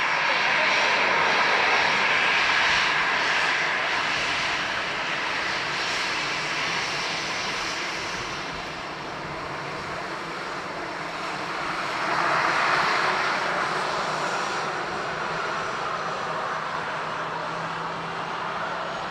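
Aer Lingus airliner at Dublin Airport, a broad steady roar of jet engines that swells and fades across the whole span, heard from outdoors at the airfield.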